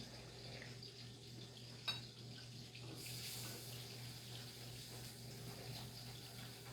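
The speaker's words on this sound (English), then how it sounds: "Pouring our water over here into our milk mixture." Water pours steadily into a milk mixture in a pan while a big family breakfast is cooked, a quiet continuous splashing stream with one small clink.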